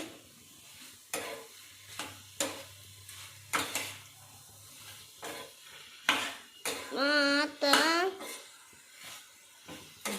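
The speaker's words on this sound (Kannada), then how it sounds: "ಸೊ ಸ್ವಲ್ಪ ಟೊಮೆಟೊ ಮೆತ್ತಗಾಗೋವರೆಗೂ ಒಂದು ಸ್ವಲ್ಪ ಹುರ್ಕೋಬೇಕು." Tomatoes being stir-fried in a pan for brinjal palya, an eggplant curry, with irregular spatula scrapes and stirring over a light sizzle, and a voice rising briefly partway through.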